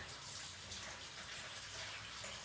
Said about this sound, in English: I just wanted to get my cabbage all rinsed up here